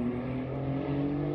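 A BMW i8 with a Liberty Walk widebody kit idles with a low, steady engine and exhaust drone, heard from outside the car, holding an even hum with no voices.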